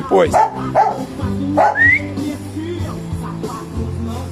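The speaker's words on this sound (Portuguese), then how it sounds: "Ah, os cachorros aí." Two dogs barking close by: a few sharp barks and yips early on, then softer whining, whimpering tones.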